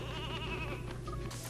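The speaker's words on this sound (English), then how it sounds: "It's so calming to hear the sheep go meh" A sheep bleats in the video game Space Station Silicon Valley, a wavering nasal bleat over a steady game-sound backdrop, followed by a short sharp blip at the end.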